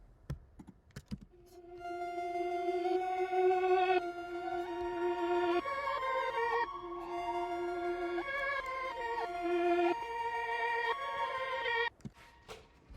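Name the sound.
two reversed sounds played together in a music production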